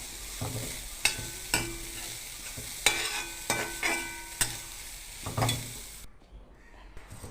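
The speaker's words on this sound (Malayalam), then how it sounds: "ഇനി കുറച്ച് തേങ്ങ നമുക്ക് ചിരകി എടുത്തിട്ടുണ്ട്, അത് വറുത്തെടുക്കാം" Grated coconut roasting in a pan for koorkka theeyal, soft frying sizzle broken by sharp periodic scrapes and taps of a spoon stirring against the pan, close and alone, going quiet near the end.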